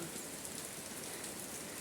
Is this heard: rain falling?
yes